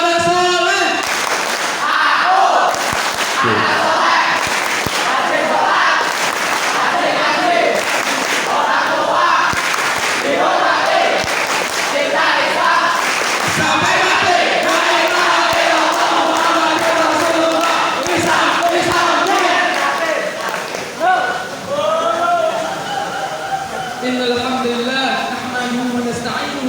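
Students at a farewell night at an Islamic boarding school in Boyolali perform the tepuk anak soleh clapping chant, loud rhythmic group clapping mixed with shouted chanting voices throughout.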